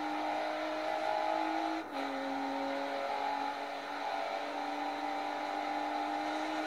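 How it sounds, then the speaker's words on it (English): Car engine running at a distance, a faint steady hum with a sustained tone that briefly drops near the two-second mark, as if easing off the throttle, then holds level under a broad background hiss. "Sorry if you can hear my car in the background."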